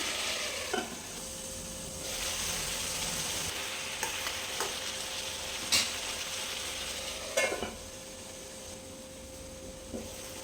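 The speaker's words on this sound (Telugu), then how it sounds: "వీటిని కూడా మళ్ళీ ఒకసారి కలుపుకుందాం. ఇలా టమాటాలు బాగా దగ్గర అయ్యే వరకు మగ్గ పెట్టుకుందాం." Tomatoes with turmeric cook in a pan with a steady soft sizzle, broken by occasional clicks and scrapes of a spoon stirring them.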